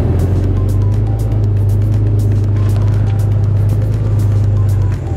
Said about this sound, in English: Now I can pull the trailer out.